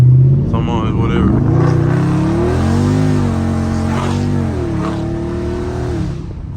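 A Dodge Charger Scat Pack revs hard while drifting, engine pitch climbing and dropping through gear shifts, loud and close, with someone talking over it.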